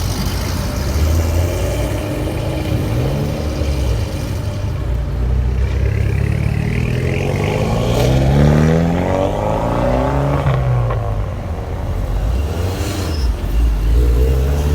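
A V10 sports car engine revs repeatedly at a cars and coffee meet, rising and falling in pitch as it accelerates past, loud and close amid traffic rumble.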